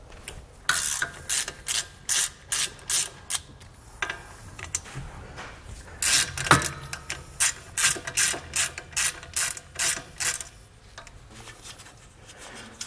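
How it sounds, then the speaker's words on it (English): A hand ratchet with a 9/16 socket loosens the mounting nuts on a Kodiak disc brake assembly, giving quick bursts of loud, rapid clicking repeated many times, close up, with no talk. "I'm going to take a 9/16 socket, loosen them up, and remove them all."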